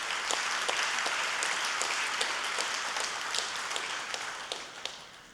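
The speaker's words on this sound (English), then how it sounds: "I think we need another round of applause." A room full of people applauds, with crisp individual claps standing out from the steady clapping, easing off slightly toward the end.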